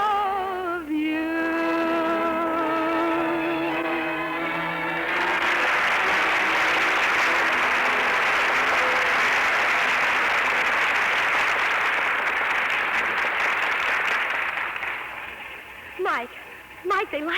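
A radio theatre audience applauds a singer's number, a dense, steady wash of clapping that swells after a sung phrase fades and runs loud for about ten seconds before thinning, with voices talking at the end.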